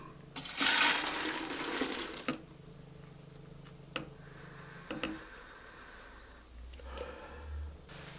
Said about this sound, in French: Ensuite, l'eau déminéralisée. 375 ml.